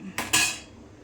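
Two quick metallic clinks of a utensil against a metal pot while transferring cooked amla between pots, close and brief, followed by quiet.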